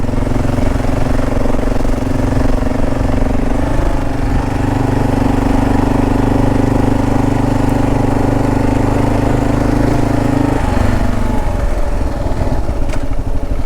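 A Kawasaki KLR dual-sport motorcycle engine idles and runs with a steady, loud drone for most of the stretch, then cuts away sharply near the end, heard on a backcountry trail.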